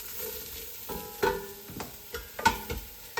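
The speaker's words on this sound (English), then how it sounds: "Quartered my mushrooms, and I'm just gonna try and brown them." Quartered mushrooms browning in a pan deglazed with red wine for beef barley soup, a steady sizzle broken by several sharp scraping stirs of a utensil against the pan.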